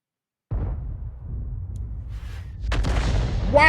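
A tank cannon shell fires in a video game with a sudden, close blast out of silence that settles into a low rumble, then a second sharp crack with ringing metallic debris near the end.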